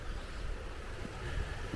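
A creek at a winter campsite gives a steady, rushing flow of water, mixed with low wind buffeting against the microphone, with no talking.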